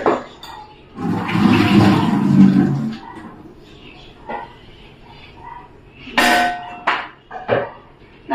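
Papaya being washed quickly in water: a loud close splashing and sloshing for about two seconds, followed by scattered clatters and knocks of a vessel and a few more brief water splashes.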